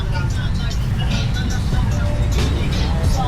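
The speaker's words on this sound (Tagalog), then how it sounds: "Nako, traffic pa." Heavy road traffic rumbles close by on a street in Barangay Bule during a fiesta, with a steady low engine drone and passing vehicles, under someone talking.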